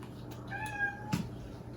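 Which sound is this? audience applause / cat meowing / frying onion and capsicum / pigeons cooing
cat meowing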